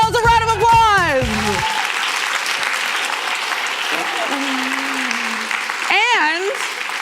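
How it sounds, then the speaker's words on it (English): Conference audience applauding in a hall, continuous dense clapping that holds steady for several seconds, with a speaker's voice heard briefly at the start and again near the end. "Give yourselves a round of applause."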